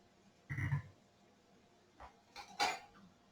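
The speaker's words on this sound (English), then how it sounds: "So we take our drained pasta, add it back to our pan." Drained cooked pasta tipped back into a pan while making chicken alfredo, giving a short clattering, scraping burst followed by two fainter knocks and rattles in an otherwise quiet kitchen.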